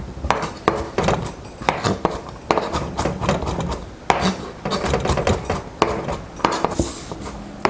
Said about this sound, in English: crush the garlic. And coarsely chop the garlic too